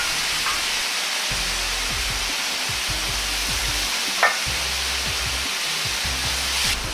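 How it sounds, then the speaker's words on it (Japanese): Chicken stock poured into a sizzling wok of pork and napa cabbage for a Chinese braise, giving a steady loud frying hiss with stirring scrapes throughout and a brief clink near the end. "鶏ガラスープまたは元を溶いたものを 100cc 入れます。"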